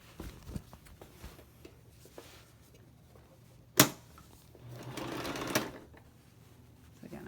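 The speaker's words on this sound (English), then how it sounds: "this time I want to sew a seam that's quite a bit wider to encase all the rough edges with all the rough strings" A sewing machine stitches a wide seam through fabric in one short, quiet run of rapid whirring, preceded by a sharp click and small handling taps in a quiet room.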